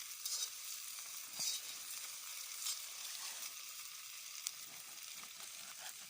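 Potatoes sizzle in oil in a kazan outdoors in a forest, a steady bright crackling hiss with occasional stirring clatters, heard alone and fairly faint.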